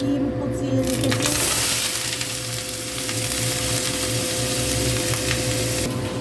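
Nigella (black cumin) seeds hit hot oil in a pan for a mixed vegetable fry, setting off a steady loud sizzle with faint crackles that holds throughout, while a person speaks faintly over it.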